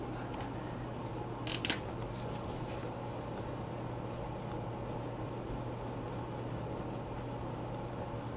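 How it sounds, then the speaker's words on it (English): Pen scratching as it writes into an Erin Condren Life Planner, soft and close with a low steady hum underneath and a couple of brief louder scrapes. "So I'm just going to write a few things in."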